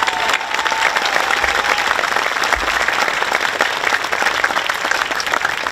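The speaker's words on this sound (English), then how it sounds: "One more round of applause for our performers today." Audience applause at a high school commencement ceremony: steady, dense clapping from a large crowd filling the hall for the whole stretch, no speech over it.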